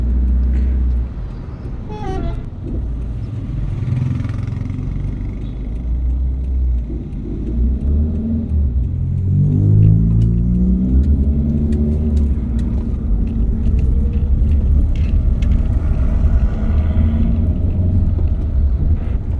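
Busy road traffic near a hot spring area in Medan, North Sumatra, with a steady loud rumble of passing cars and buses and a vehicle horn tooting a few times, close by.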